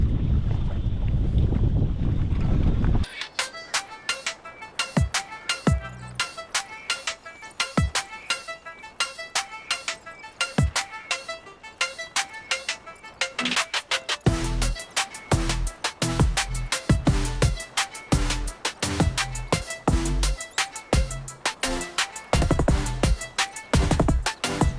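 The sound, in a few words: wind blowing on a fishing boat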